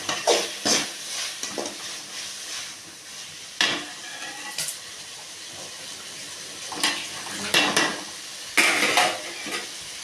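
Turmeric and garam masala are stirred into a tomato rice masala in a pan. Intermittent spoon clinks and scrapes sound against the metal over a soft, low sizzle, with quiet stretches between strokes.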